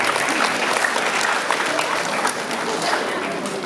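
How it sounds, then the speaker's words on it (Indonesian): A seminar audience applauds steadily and fairly loudly for several seconds, a dense wash of clapping from a crowd in a hall that holds level throughout. "Boleh tepuk tangan."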